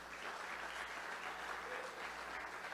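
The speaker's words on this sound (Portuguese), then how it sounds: "Quantos podem aplaudir o nome de Jesus nessa noite?" A church congregation claps together in praise during an evening service. Dense, even applause holds at a moderate level for the full stretch with no break.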